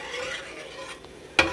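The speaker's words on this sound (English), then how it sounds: "I'm going to saute that for my sauce" Chopped green pepper, onion and garlic sautéing in a pan for a chunky marinara sauce, a soft brief sizzle with stirring scrapes and a sharp utensil clink near the end, close and quiet.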